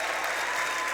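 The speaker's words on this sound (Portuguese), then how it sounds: "Aplauda mais forte, gente, aplauda mais forte." A church congregation applauding during a worship service, a dense, steady wash of clapping that fills the whole second at even loudness with no voices standing out.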